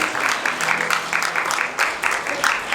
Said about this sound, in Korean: 두분께 축복의 박수 부탁겠습니다